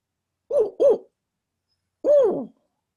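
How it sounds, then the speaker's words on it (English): Northern spotted owl hoot: two quick close notes, a pause, then a longer falling note, clear and near against silence. "And they give a 4-note hoot, which sounds like this."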